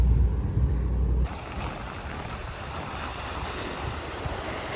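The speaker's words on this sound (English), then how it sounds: "see these waves coming up on this tip over here" Ocean waves wash in on the rocky Maine coast, a broad, continuous surf roar mixed with gusting wind buffeting the microphone, which sounds louder during the opening second. No one speaks.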